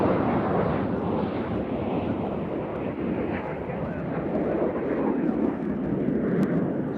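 A Delta airliner arriving from LaGuardia at Nashville International Airport, a steady broadband jet roar heard from a distance across the airfield, continuous and even throughout with a windy, rushing texture.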